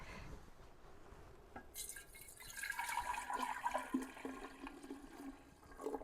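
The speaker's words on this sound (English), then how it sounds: "we're going to fill it up with water up to about right here" Water runs into a container being filled for a home ginger beer and kombucha brew, a gushing splash that starts after a quiet moment and carries on with gurgles and clinks.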